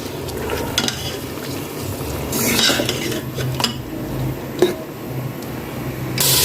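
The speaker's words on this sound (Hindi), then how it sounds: "इसको हम 2 मिनट के लिए भूनेंगे।" Mutton being fried with green chillies and tomatoes in a pan, a metal spoon scraping and clanking against the pan over a low sizzle, with irregular louder knocks and stirring bursts.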